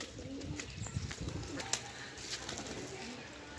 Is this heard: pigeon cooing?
yes